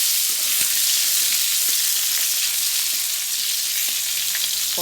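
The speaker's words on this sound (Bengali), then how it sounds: "পটলগুলো ভাজা হচ্ছে" Pointed gourd (potol) frying in hot oil in a pan, a continuous even sizzle with faint crackles, close and steady with no talk.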